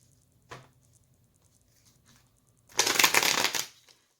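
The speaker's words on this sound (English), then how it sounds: "Okay, I'm going to shuffle one more time." A single soft riffle, then a brief pause before a close, brisk burst of tarot cards being shuffled that lasts about a second.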